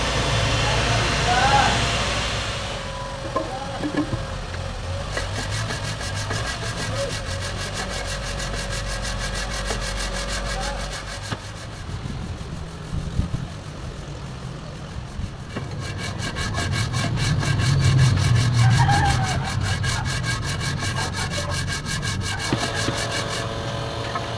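Sandpaper rasps back and forth on metal in steady, rhythmic strokes close up, during a Toyota Land Cruiser 1HD-T engine top overhaul, continuing for a long stretch with a voice talking at times.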